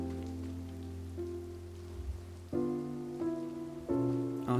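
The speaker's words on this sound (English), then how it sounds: "Oh, raining." Rain falling during a Genshin Impact cutscene, a soft patter beneath sustained, swelling musical tones that change in steps, fairly quiet overall.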